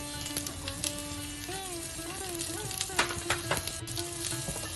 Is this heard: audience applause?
no